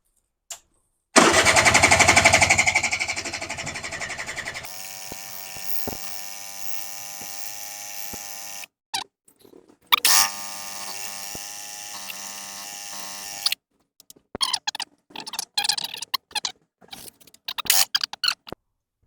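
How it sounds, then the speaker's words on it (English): A Suzuki LT80 quad's engine is cranked over to start. It gives a loud buzzing whir for a few seconds, then a steady mechanical drone with a few stops and restarts, ending in short irregular bursts of cranking. "It might take a bit of turning over, but it should come to life."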